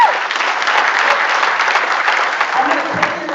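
Loud, sustained applause from an audience at a 2024 county Republican Party nominating convention fills the hall, dense and continuous clapping that tapers slightly at the end.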